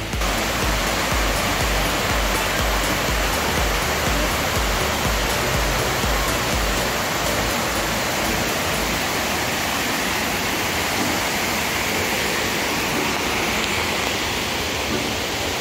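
Dunn's River Falls near Ocho Rios rushes in a constant loud, broadband roar of cascading water, steady and unbroken throughout with no voices.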